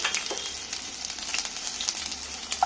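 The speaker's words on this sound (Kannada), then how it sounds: "ಎಣ್ಣೆ ಕಾದ ನಂತರ ಮೊದಲಿಗೆ ಈರುಳ್ಳಿಯನ್ನು ಹಾಕಬೇಕು" Onions frying in hot oil for egg chicken masala give a soft, steady sizzle with scattered crackles and pops, close and moderately quiet, with no voices.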